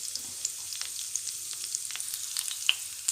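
Potatoes fry in hot oil with curry leaves and green chillies, giving a steady close sizzle with scattered crackles and pops throughout and no speech.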